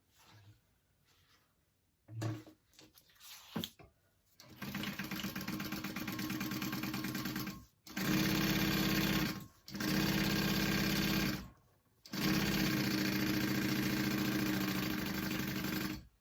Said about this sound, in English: We're going to sew them right sides together on the top, matching your raw edges, 1/2 inch seam allowance.